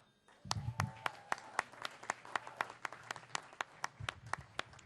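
Someone claps their hands at a 2011 candidate forum in Ventura, California. About twenty sharp, evenly spaced claps sound close by in a quiet hall, with brief murmurs of a voice underneath.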